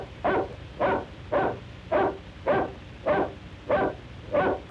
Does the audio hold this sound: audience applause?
no